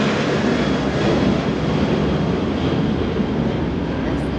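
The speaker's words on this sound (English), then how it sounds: "Airplanes. I'm close to the airport." Airplane flying near an airport, a loud continuous broadband roar with a steady low rumble that holds evenly throughout, close by, with no voices.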